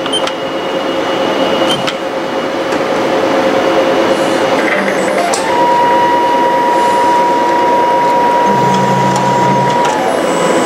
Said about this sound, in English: So in the machine, I have the Mimaki JV100 and I'll do a test print to see nozzle condition.